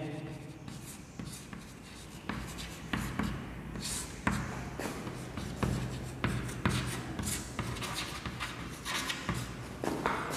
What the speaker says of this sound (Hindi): एक बार इसका हिंदी अर्थ लिख देते हैं।